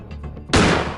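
A single gunshot in the horror video game Granny bursts in loudly and abruptly midway, ringing on with a sustained roar after quiet background sounds.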